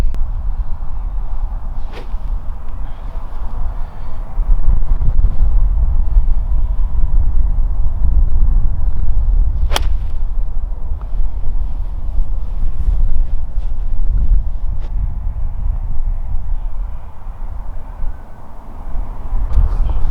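Wind gusting across an open golf course: a steady, loud low rumble buffeting the microphone for the full stretch, with only a couple of brief sharp ticks and no voices.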